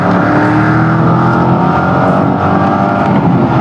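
A 2000 Chevrolet Corvette C5 convertible engine drones steadily at high revs near its 6,000 RPM redline, a sustained throaty roar with no pauses or talk throughout.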